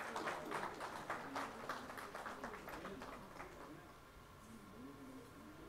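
Audience applause at the HR Forum 2015 as Mr. Harbhajan Singh of Honda Motorcycles and Scooters India is introduced: a thick patter of clapping for about three seconds, then fading into a quieter room tone.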